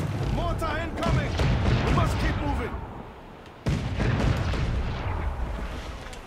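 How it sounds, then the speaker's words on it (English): Mortar rounds strike a sailing ship in the Assassin's Creed 4 Black Flag naval combat, booming, rumbling impacts with a sudden loud hit near the middle, mixed with game sound and a voice talking over it. "Mortar incoming."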